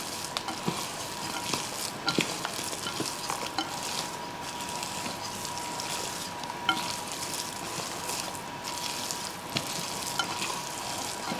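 Zucchini brownie batter being stirred in a bowl, a steady, close scraping and swishing that runs for about eleven seconds with small irregular knocks, heard alone without talk.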